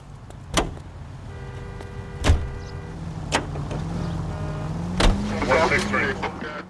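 A car in the L.A. Noire video game starting up and pulling away, with sharp door thumps, a low engine drone rising and falling, and a voice talking over it.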